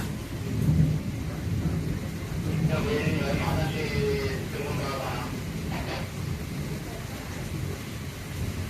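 Heavy rain pours in a steady roar with wind while thunder rumbles low beneath it, during a power outage in China; a voice talks briefly in Thai partway through.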